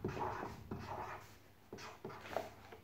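Pen strokes scratch across a paper Easter rabbit-and-basket craft, several short quiet bursts of writing separated by brief pauses, close and soft with no talking.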